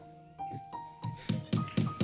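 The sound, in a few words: hammer tapping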